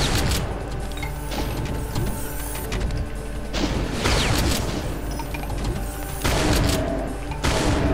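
Rapid mechanical gunfire in Brutal Doom plays as dense, loud bursts of repeated shots with clattering mechanisms, coming in several waves across the clip with no pauses between them.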